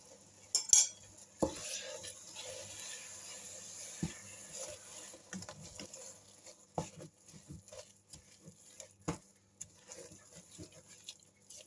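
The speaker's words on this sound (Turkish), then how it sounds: "Bakın şekeri ara ara karıştırdım." A utensil scrapes, taps and clinks against a pan while sugar is stirred into cheese halva, the strokes irregular and mostly soft, with a few sharper knocks early on.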